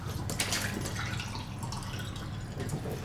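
Tap water runs into a glass in a kitchen, a steady close splashing and gurgling stream lasting the whole stretch at an even, moderate level with no talking.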